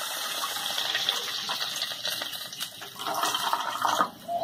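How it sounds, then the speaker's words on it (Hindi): Boiled chicken stock (yakhni), plain and unsalted, poured into a pot over fried garlic for chicken corn soup, giving a steady close gush of liquid that runs throughout with a brief dip near the end. "अब इसके अंदर मैंने चिकन को बॉयल किया था, इसकी यखनी है वो इसके अंदर मैं ऐड कर दूँगी।"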